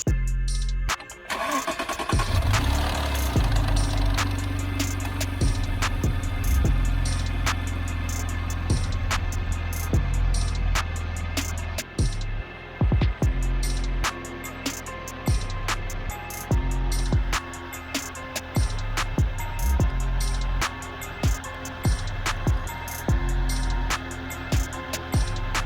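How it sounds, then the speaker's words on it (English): A Maserati Ghibli engine starting after an oil change, then settling into a steady idle with a low rumble and occasional clicks and ticks nearby. "Alright, then we start the engine. Let it cycle for a few,"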